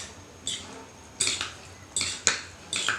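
Metal spoon scraping and clinking against a bowl while stirring spicy noodles, with several sharp irregular clatters close by and faint background hum.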